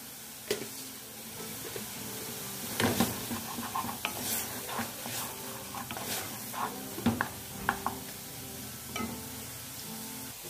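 Garlic cloves fry in a pan for a passion fruit farofa, with a soft continuous sizzle broken by repeated sharp clacks and scrapes of stirring against the pan.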